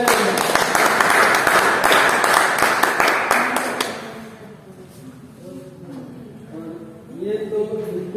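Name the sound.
loud applause at a meeting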